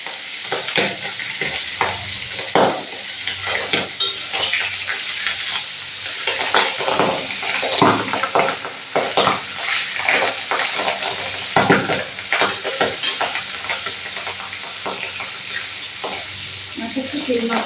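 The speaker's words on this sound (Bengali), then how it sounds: "তেল ভালো গরম হয়ে গেছে, মাছগুলো ছেড়ে দেবো।" Pabda fish frying in hot mustard oil, a dense continuous sizzle and crackle with stirring and pan scrapes rising and falling over the whole stretch, no talk.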